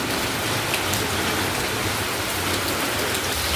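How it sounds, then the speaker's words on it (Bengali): Heavy rain pours outside in a steady, dense hiss that stays constant throughout, loud and unbroken, with no voices. "প্রচণ্ড বৃষ্টি বাইরে।"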